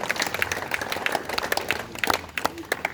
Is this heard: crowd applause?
yes